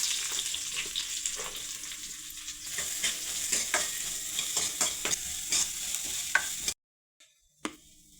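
Onions and mustard seeds frying in oil in a pot, a steady sizzle broken by repeated scraping stirs, then a sudden drop to near silence with one last clink.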